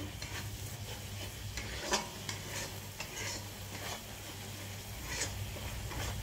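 A Bengali bata paste is sautéed in a pan with repeated spatula strokes scraping through a soft, continuous sizzle, the strokes coming in an irregular rhythm under a low hum.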